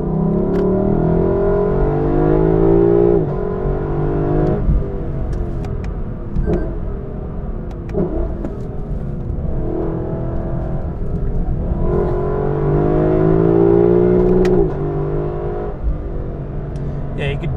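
A Lexus LC 500 convertible's engine rumbles and rises in repeated revs while driving, heard from inside the cabin at steady loudness with someone talking over it.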